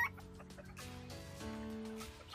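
Chickens cluck softly and intermittently in a coop, with a faint background hum and a few scattered bird calls, fairly quiet throughout.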